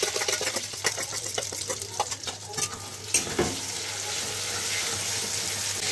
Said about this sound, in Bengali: পনিরগুলো এখন মা ভাজছে।